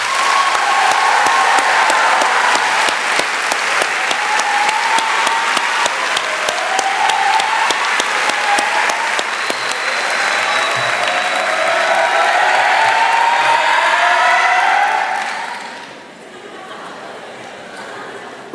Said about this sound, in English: May we all please join in one more round of applause for the class of 2019.